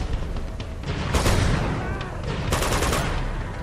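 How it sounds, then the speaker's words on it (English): Rapid bursts of gunfire from the Uncharted 2 Remastered video game crackle in dense, overlapping volleys, loud and close, with a louder flurry near the end. "I shot a log thinking it was him"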